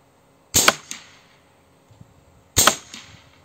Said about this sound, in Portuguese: segundo disparo